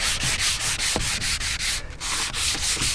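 Sanding on kitchen cabinets during prep for painting, a steady rasping scrub in quick back-and-forth strokes, close and loud, with one brief pause near the end.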